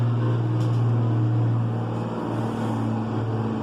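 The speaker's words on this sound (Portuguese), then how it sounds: "esperar o caminhão passar" A truck rumbles past outside, a heavy engine drone with a strong low tone that swells and then eases as it goes by, with no talk over it.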